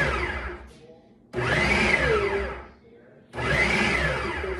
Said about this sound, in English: Put some veggies in there. On and hit chop.